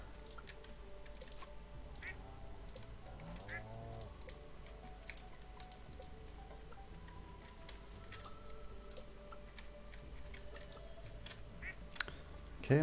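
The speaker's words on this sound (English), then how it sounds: "Oh yep, we got ducks." Ducks quack in the farm game Stardew Valley, faint, wavering calls around the 3 to 4 second mark, set over constant keyboard clicks and low background hum, with quiet ticking throughout.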